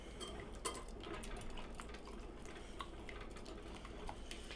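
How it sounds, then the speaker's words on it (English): Quiet, busy clinking and scraping of a whisk stirring lemon cheesecake pie filling in a pot, small irregular ticks and taps over a soft steady background, no talking. "So we're just going to sit here and whisk away."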